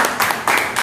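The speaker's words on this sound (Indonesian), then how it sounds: "tepuk tangan untuk kelompok ini" A group of students applauds in a classroom after a presentation, a short burst of fast, close clapping with a few bright surges, loud and brief.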